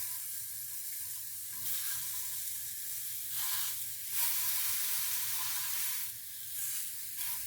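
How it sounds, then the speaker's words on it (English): Limes char in a hot pan with a continuous loud sizzle that swells in bright hissing surges every few seconds, close up and without speech. "we can char some limes"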